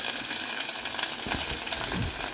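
Onion and green chillies sizzle steadily in a hot pan, a close and continuous frying hiss with a few stirring scrapes.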